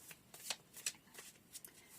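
Tarot cards are shuffled in quick, soft riffling bursts, close and quiet, with several short flicks across two seconds.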